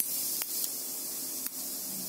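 Mustard seeds splutter in hot oil for an Andhra-style tomato pickle, heard as a continuous soft sizzling hiss with a few sharp pops, fairly quiet and with no voices.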